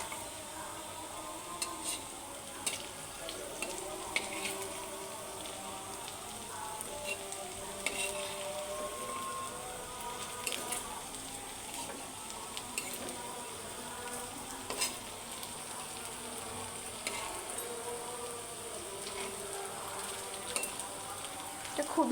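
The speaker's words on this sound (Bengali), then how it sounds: "এই পাশটাও খুব ভালো করে ভেজে নিতে হবে।" Potato pakora frying in hot oil, a continuous close sizzle with occasional stirring scrapes and light clinks throughout, with no talk over it.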